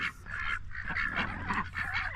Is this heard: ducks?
yes